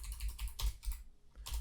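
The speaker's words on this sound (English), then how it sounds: "So I'm going to type these out for you really fast." Quick typing on a computer keyboard, a brief run of soft, close keystrokes with a short pause before a final tap, quiet and without talk.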